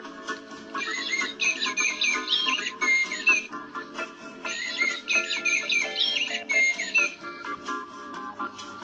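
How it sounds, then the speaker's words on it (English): A blackbird calls in a series of bright, fluty whistled phrases, repeated in two similar bursts with short pauses between, clear and fairly close. "Look, there's a black bird over there."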